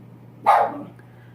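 A dachshund gives a single sharp, close bark in an otherwise quiet room, with a faint steady hum underneath.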